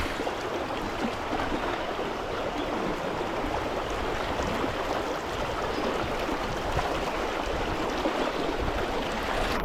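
Fast, high river water on the Little Juniata rushes and churns in a steady, loud broadband roar that fills the whole stretch with no voices.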